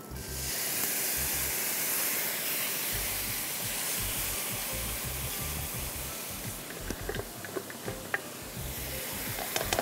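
Steady loud sizzling and hissing of spice masala frying with onion, tamarind, ginger and garlic in a hot pan for Goan fish curry, with scattered sharp crackles and pops building toward the end.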